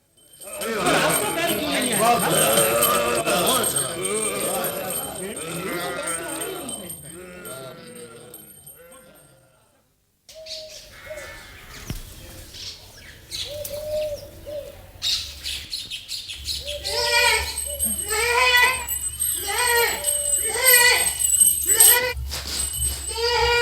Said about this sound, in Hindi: उस बकरी को जरा पकड़ो